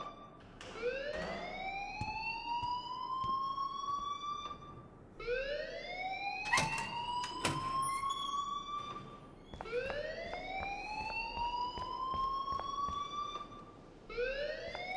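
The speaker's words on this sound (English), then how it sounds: "please turn off that alarm since that's your job" A rising, wailing alarm in the video game Life Is Strange, sounding four times in a steady repeating cycle with a few sharp clanks in between, loud and unbroken across the whole stretch.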